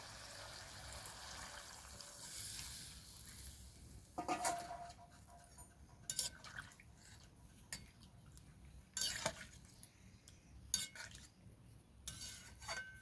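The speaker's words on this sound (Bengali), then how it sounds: "একবার নাড়াচাড়া করে নেব।" A spoon scrapes and clinks against a pan while chicken malai curry is stirred, several sharp metallic knocks spaced irregularly over quiet background, near and soft.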